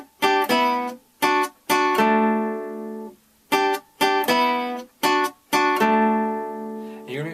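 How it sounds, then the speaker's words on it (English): High guitar part of a song strummed two strings at a time on the top two strings as small chords, heard alone in short ringing bursts, some choppy and some left to sustain, loud and near. "there's also what I'd call a high guitar part"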